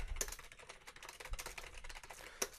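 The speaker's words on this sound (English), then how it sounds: "Sorry about my keyboard. I know it's really loud." A loud computer keyboard clatters under rapid, uneven typing, with quick key clicks and a few heavier strokes, heard close with no speech.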